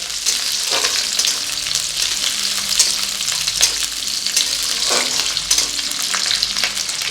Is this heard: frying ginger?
yes